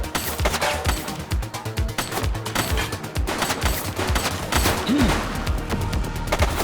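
Rapid gunshots ring out in The Precinct, a police video game, as a dense, sustained volley of loud sharp cracks continues throughout.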